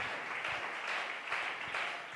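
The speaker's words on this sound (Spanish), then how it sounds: "Dele ese aplauso al Señor." A church congregation applauds during a sermon, a quiet, steady wash of many hands clapping with a faint, distant quality and no voices over it.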